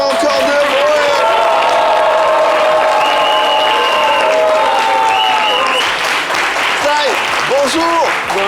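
A studio audience at a French television talk show applauds and cheers loudly as a guest enters, a dense and sustained roar of clapping with voices rising over it.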